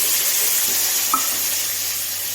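Chopped tomatoes hit a hot tempering of asafoetida and whole spices in a pan, giving a loud, steady hiss of frying with one small clink partway through and no talking.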